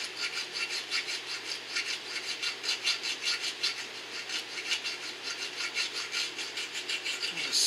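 Repeated rhythmic strokes of a file smoothing old weld edges on a metal dynafocal motor mount, close and fairly quiet, with no talking.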